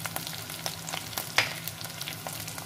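Coarsely crushed ginger and garlic frying in oil for a mixed vegetable dish, a quiet crackling sizzle with soft stirring taps and one sharper clink, with no talking.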